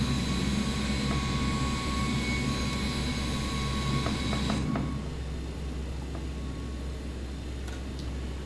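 A simulated jet airliner in a flight simulator game departs, its jet engines giving a sustained whining roar with a high tonal whine that drops away midway, leaving a quieter steady rumble with faint mechanical clicks.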